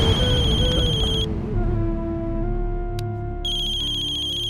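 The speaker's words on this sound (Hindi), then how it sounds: "वकील साहब का फोन" A mobile phone ringtone plays an electronic melody for an incoming call, close and clear, with a brief pause before the tune resumes.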